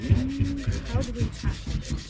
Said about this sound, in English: Now it's time for a little bit of sanding.